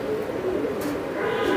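Damascene pigeons at a pigeon farm giving soft, low cooing calls, steady and close, with no talk.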